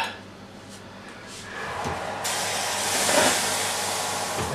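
Steam is injected into a hot oven holding poolish bread loaves, starting as a soft hiss and then swelling into a louder, steady rushing jet that runs to the end, with faint clicks of the oven nearby.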